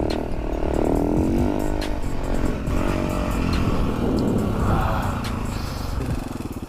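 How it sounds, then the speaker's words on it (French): A car passes by a rider practicing motorcycle wheelies, its engine rising and falling in a steady rumble that stays loud and close throughout. "Ah, une voiture."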